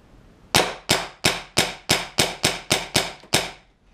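Ten sharp, evenly spaced shots from an Empire BT Dfender high-power paintball marker, each a loud crack with a quick decay, firing in a steady rhythm about every third of a second, close by with no talk.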